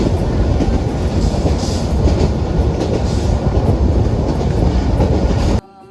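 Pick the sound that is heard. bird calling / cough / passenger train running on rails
passenger train running on rails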